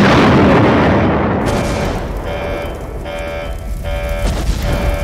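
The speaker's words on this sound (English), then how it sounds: "Generator explosion in 6." A generator explodes in the video game The Glitched Attraction: a loud, broad boom opens and rumbles away, then electronic alarm tones beep in a steady repeating pattern. No one speaks.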